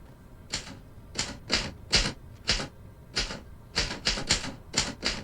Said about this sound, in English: I love an old typewriter.